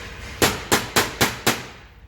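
Five sharp, evenly spaced hammer blows on a pin in a seized Renault engine oil pump, loud and close metal-on-metal strikes with quick decays.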